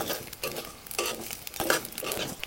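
Chana dal, fenugreek, cumin and coriander seeds frying in oil, a steady close sizzle and crackle with a few soft stirring scrapes and light pops, no talking.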